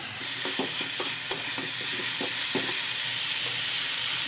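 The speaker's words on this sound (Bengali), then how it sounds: "মশলাটা কষানো হয়ে গেছে।" Turmeric, chili and coriander powder fry in oil with a splash of water, a steady close sizzle under a series of light scraping stirs.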